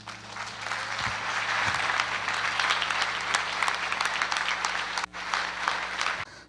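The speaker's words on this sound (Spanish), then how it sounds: "Denle un aplauso al Señor." A church congregation applauds steadily for several seconds, a dense, full clapping close by, with a brief dip near the end before the clapping picks up again.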